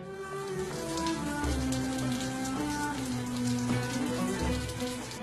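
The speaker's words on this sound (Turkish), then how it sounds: "Şimdi de ağzıma üç kez dolu dolu su veriyorum." Water splashes and trickles continuously during ablution as it is taken into the mouth, a close, steady patter of running water with no voices.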